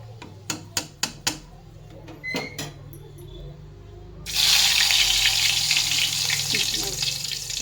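Potato chips going into hot oil: a few sharp clicks and taps, then a sudden loud, dense crackling sizzle that holds steady and close until the end.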